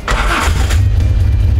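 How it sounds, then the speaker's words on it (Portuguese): A Chevrolet Opala SS 4 engine cranks and catches, then settles into a loud, close, throbbing rumble with a rough pulsing low end. "Vou dar uma ligadinha neles só para vocês sentirem o ronco desse carro"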